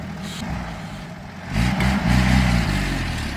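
A GAZ-51 truck engine turns over and catches, settling into a low, rough idle that swells louder partway through, heard close with no talk.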